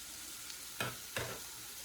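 Half an onion and two cloves of chopped garlic fry in oil in a pan with a soft, steady sizzle, broken by two brief louder stirring scrapes.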